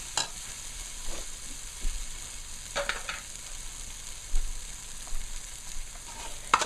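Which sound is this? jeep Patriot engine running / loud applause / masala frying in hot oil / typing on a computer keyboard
masala frying in hot oil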